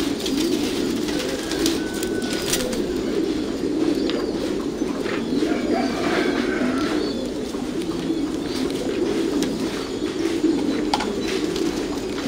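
Pigeons cooing continuously in a breeding loft, a dense low murmur of overlapping coos, close and steady, with faint flutters and chirps mixed in.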